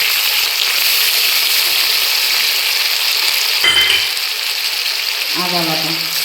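Tomato with garlic and ginger paste frying in a pan for Bengali mutton kosha, a loud continuous sizzle with a brief stirring scrape near the end.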